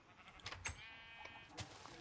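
Sheep bleat faintly in a pen, a few short wavering calls from at least one animal, distant and quiet, with no talking over them.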